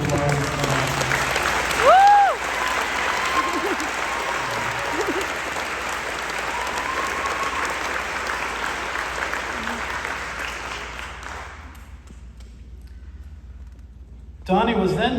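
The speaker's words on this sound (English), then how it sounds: "we're gonna give you a round of applause" An audience at a school senior legacy speech event gives a sustained round of applause, steady and fairly loud for about eleven seconds before stopping abruptly, followed by a brief quiet pause and a burst of sound at the end.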